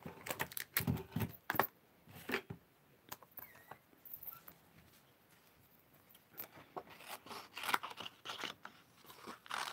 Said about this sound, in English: So then what I'm going to do is just snippity snip.